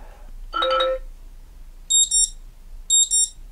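Ringtone from a Jeasung A2 budget smartphone, a short bright electronic trill followed by pairs of high, harsh beeping bursts repeating about a second apart in a quiet room.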